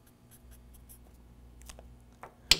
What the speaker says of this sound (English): So I'll write that down.